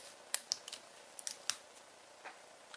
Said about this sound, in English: Now what I'm going to do is take my non-stick shears.